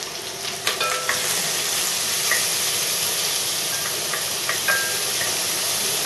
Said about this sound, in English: Saute them round.